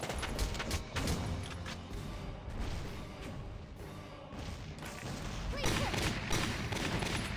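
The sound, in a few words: gunshots in the video game Valkyria Chronicles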